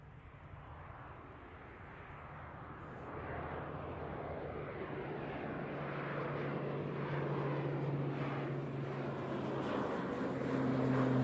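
At Christchurch Airport an aircraft takes off, its engines a broad, steady roar that swells gradually as it powers away, with a sustained low drone underneath.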